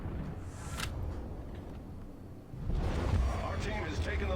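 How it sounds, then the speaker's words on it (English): A World of Warships battle with the heavy cruiser Atago taking fire: low rumbling booms of shells landing, building into a louder barrage after a brief lull, under a talking voice. "we are getting shot from the right side"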